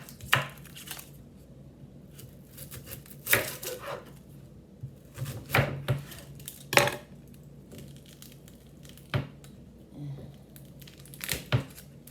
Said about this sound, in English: So I'm going to cut up an onion.